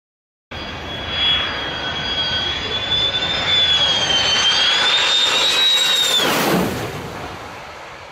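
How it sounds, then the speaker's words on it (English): A Turkish Air Force military jet roars in loud and close on a very low landing approach, its engine whine rising and sweeping past overhead, then fading slightly as it moves away. "It's a Turkish Air Force area where plane lands very low"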